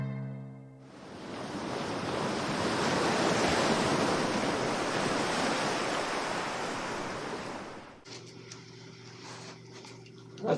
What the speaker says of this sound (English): Waves are always the sound of change